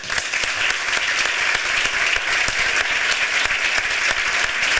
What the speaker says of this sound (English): greet you with a very big applause